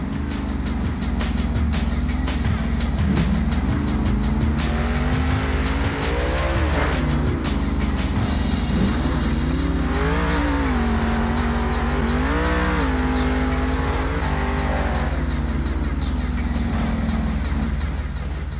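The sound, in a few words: Monster Mutt monster truck engine revving at Monster Jam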